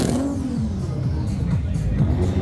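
A tuned race car accelerates on a circuit during a motorsport festival, its engine note rising and shifting through gears at mid distance, steady and loud across the whole stretch with some background crowd or talk.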